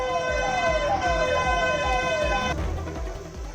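A fire engine siren wails loud and near in repeated rising sweeps, then cuts off abruptly near the end, leaving engine rumble and traffic noise behind.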